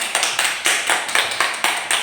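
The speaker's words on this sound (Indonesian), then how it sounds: "Tepuk tangan buat Aliana" A primary school class claps for a pupil in an Islamic religious education lesson, a few children's hands beating in a loose, fairly regular rhythm of sharp, close claps over two seconds.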